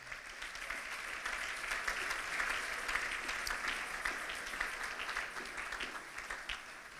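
A church congregation at an Easter Sunday service applauds with a sustained, even wash of clapping from a crowd at moderate distance, no voices on top.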